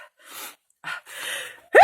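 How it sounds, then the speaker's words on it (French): A person's sneeze build-up: several sharp gasping inhalations separated by pauses, ending in a loud, abrupt burst close to the microphone. "j'ai envie d'éternuer"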